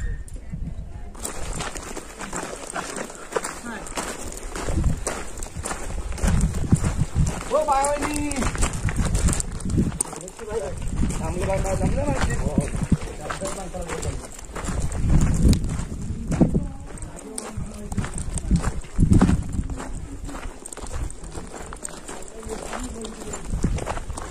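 Rhythmic hoofbeats from horses clip-clop through a busy outdoor market scene near Raigad Fort, with voices talking over them and a steady crowd murmur throughout.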